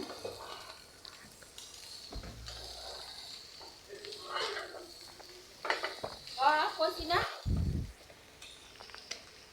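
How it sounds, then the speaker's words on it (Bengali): Shredded cabbage fries with egg in a pan, soft sizzling and a spatula scraping and stirring in bursts, with a few clunks of utensils and quiet talk in between. "ডিমটা লাল একটু লাল ভাজা হয়ে যাবার পর আমি পাতাকপিটা দিয়ে দিলাম"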